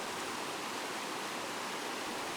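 Flowing stream water in the Ayer Hitam forest reserve, a dense, even rushing hiss close to the microphone, steady and uninterrupted with no voices.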